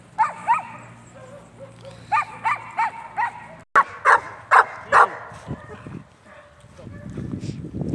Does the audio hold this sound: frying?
no